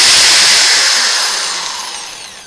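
A Black and Decker KR704RE hammer drill runs with a loud, high motor whine close by, its pitch sliding as the trigger eases and the sound gradually fading over a couple of seconds.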